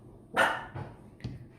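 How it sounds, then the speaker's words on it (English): A dog barks close by, one loud sharp bark followed by two softer, shorter barks in quick succession. "So first, sorry about the dog."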